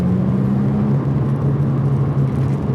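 Nissan Skyline V35 coupe with a manual gearbox pulling uphill in second gear, its engine a steady, close droning hum that holds level throughout with no voices.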